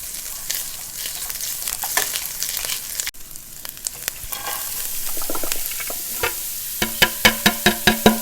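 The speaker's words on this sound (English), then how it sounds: "I just want to saute this just so it gives it a really nice aroma" Ginger and garlic sautéing in a pan for a cauliflower paratha filling, a steady sizzle with scraping stirs that turn into sharp, rhythmic spoon taps on the pan toward the end.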